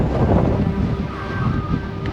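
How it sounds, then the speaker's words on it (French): Strong mountain wind on the Tour du Mont Blanc buffets the microphone with a steady low roar and gusty rumble, loud and close, with no other sounds. "Ce vent là, qui a je sais pas combien, et qui arrive à me pousser des fois."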